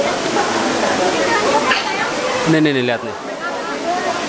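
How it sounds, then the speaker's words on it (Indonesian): Broad, steady rush of river water at Sendang Mawar beside Jatijajar cave, a continuous loud wash filling the whole clip while someone speaks briefly over it near the middle. "Ini Sungai Sendang Mawar di sini di bawah."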